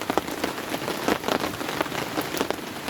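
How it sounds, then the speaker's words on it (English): Rain falling on a tent or tarp during a wild camping trip in torrential rain, a steady close patter with sharper individual drop taps scattered throughout, no voices. "the sound of rain on a tarp or rain on a tent, you can't beat it"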